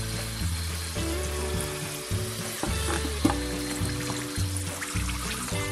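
Gujiyas, sweet filled Indian dumplings with mawa and dry fruit, frying in hot refined oil: a steady, dense sizzle and crackle, loud and close, continuous throughout with no voices.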